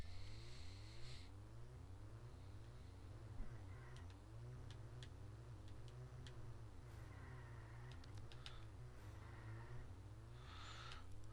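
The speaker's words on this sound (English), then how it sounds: "Like just the car sounds is kind of bland" Car engines in the 2D racing video game Ultimate Racing 2D drone steadily and quietly, with revs rising and falling in long sweeps, a faint rhythmic ticking and a few sharp clicks, and no talk.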